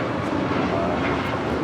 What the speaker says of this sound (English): 1635 departing to Washington Dulles on a MAX 9.